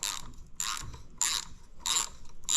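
A ratchet spins out a 13mm bolt holding the detent spring roller on a 4L65E transmission during teardown, giving four quick bursts of clicking, close and clear with short pauses between.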